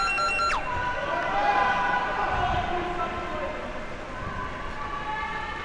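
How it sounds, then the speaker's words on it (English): A foghorn-style buzzer sounds at an underwater hockey match, a loud sustained horn-like tone that starts abruptly and wavers and falls, with a noisy pool hall behind it and voices talking over it. "But that's our buzzer."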